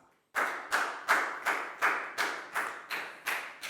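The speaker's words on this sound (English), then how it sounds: "Big round of applause for Pat." Classroom applause for a student in a Year 4 maths lesson: about nine crisp, evenly timed claps, close and fairly quiet, with no talking.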